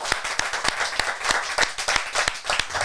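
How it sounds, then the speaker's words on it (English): Live clapping from a small studio audience at the start of a podcast episode, a steady run of sharp hand claps filling the room at close range with no talk over it. "Live clap."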